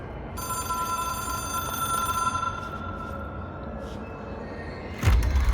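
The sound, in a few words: telephone ringing in the video game Control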